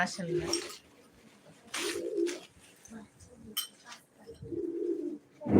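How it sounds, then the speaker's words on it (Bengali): Pigeons coo in low, throaty bursts, several calls spaced out with quiet gaps between them, close by. "আমাদের পাশে অনেকগুলো কবুতর আছে কবুতর সবগুলো খুবই সুন্দর"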